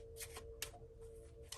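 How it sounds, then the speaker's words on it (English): Tarot cards being shuffled by hand, several quick riffling bursts and soft slides at close range, quiet and with no talking. "So let's go ahead and shuffle the cards"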